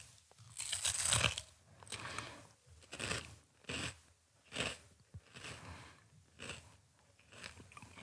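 Norwegian knekkebrød crispbread topped with brunost cheese is bitten and chewed up close, giving a series of dry, loud crunches in an uneven rhythm with short pauses between bites.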